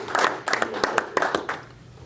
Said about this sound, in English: let's clap and like say. Thank you.